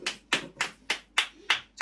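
Hands clap in a steady rhythm of sharp, close claps, about three per second, repeating several times with no voices over them.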